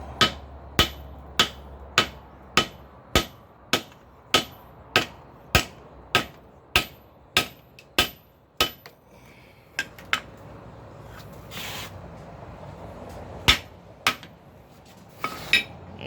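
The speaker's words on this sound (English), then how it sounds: "Let's see how this hammer does." A hammer striking a steel rail-track bar, about fifteen sharp metallic clangs in a steady rhythm, then a pause and a few scattered heavier strikes, loud and close.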